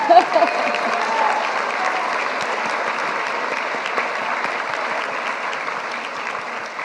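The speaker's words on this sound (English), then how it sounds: "I think it deserves a big cheer, yeah." An audience at a university degree ceremony applauds steadily and loudly, a dense, even wash of clapping that holds for several seconds with a few louder claps at the start.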